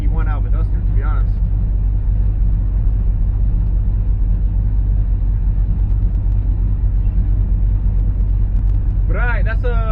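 A 1970 Dodge Charger 500 driving, with a steady loud low engine rumble and road noise running throughout, and brief voices talking near the start and at the end.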